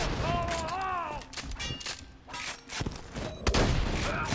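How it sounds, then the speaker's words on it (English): Rapid bursts of gunfire and ricocheting bullets in Borderlands 2, loud and close, crackling in clustered volleys with a few sharp cracks, over game music and sound effects. "Ricocheting bullets for days."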